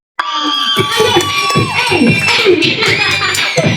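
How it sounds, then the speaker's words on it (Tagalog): A crowd of parents and children at a child's second birthday party cheers and shouts loudly and continuously for a few seconds, with excited voices and screams layered together. "isang malakas na hiyawan na may kasama sigawan"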